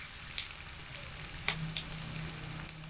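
Ginger paste frying in a pan with already browned onion, garlic and chilli, a soft continuous sizzle with a few faint clicks and stirring sounds, quiet and close.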